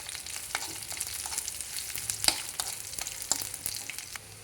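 Dried red chillies fry in hot oil for a tempering, giving a close, steady sizzle scattered with small crackles and pops and light stirring.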